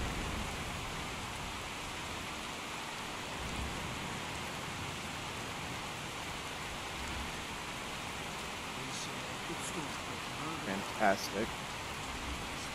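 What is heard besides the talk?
rain in the video game Skyrim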